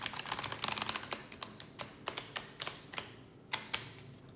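Rapid papery flicking and snapping as a deck of oracle cards is shuffled, a quick burst followed by separate crisp clicks spaced out, close up with no voices.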